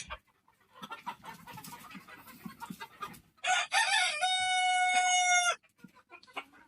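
Fawmi layer hens on a poultry farm, scattered clucking and cackling followed by a loud, close rooster-style crow lasting about two seconds, then more clucks.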